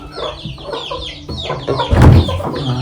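Chickens cluck repeatedly in a village yard in Konkan, with a louder burst of fowl calls near the end; no speech.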